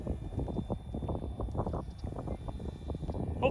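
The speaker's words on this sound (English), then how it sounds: "You're probably hearing the wind in this video. It is pretty windy." Loud, gusty wind buffeting the microphone on an open flying field, a continuous rough low-pitched rumble with irregular surges and no talking.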